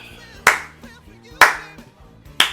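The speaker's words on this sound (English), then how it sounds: "You're clapping on 1 and 3, man." Three loud, sharp hand claps spaced about a second apart over quiet music, close to the listener.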